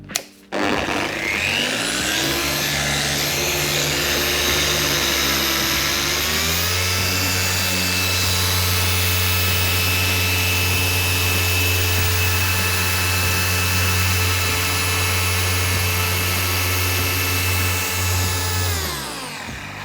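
Car polisher buffing paint to remove a deep scratch, whining at low speed and then stepping up to a higher, louder pitch, steady and close until it spins down at the end.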